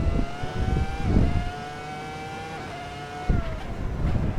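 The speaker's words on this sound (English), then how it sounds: "you can over-rev the motor" Ferrari F2004 Formula One engine over-revving in Assetto Corsa, a high, sustained whining tone that climbs and holds near the limiter, with shift thumps at the start and near the end.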